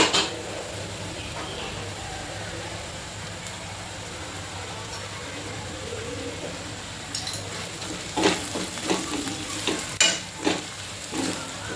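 Browned onion with a little turmeric frying in a pan: a quiet, constant sizzle for several seconds, then a run of close scraping and clinking stir strokes toward the end.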